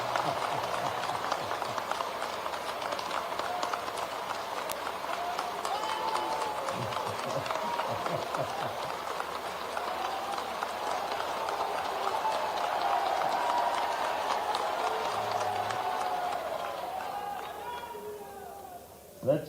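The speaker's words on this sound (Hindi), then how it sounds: "इतनी बढ़िया तालियां तो यही बजती है" Large audience at a state-level panchayat secretaries' conference claps in a long, dense, steady wash of applause that holds for nearly twenty seconds before fading out.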